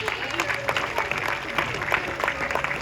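An audience claps for Nora the sea lion at a zoo sea lion show in Plaisance-du-Touch, steady, dense applause throughout, fairly close, with some crowd noise and faint talk mixed in.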